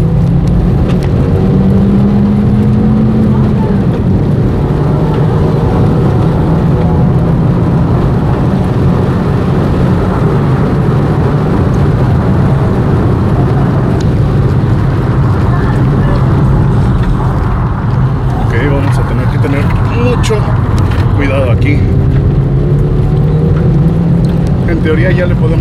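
A front-wheel-drive car accelerates at full power on a professional racetrack, its engine and wind noise loud and sustained from inside the cabin, with someone talking over it.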